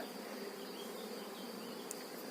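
A dense, steady hum of many honeybees buzzing together at the hive entrance, continuous and fairly quiet, with no voices.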